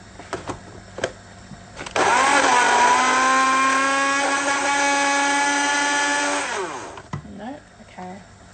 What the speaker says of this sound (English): I just don't have the best blender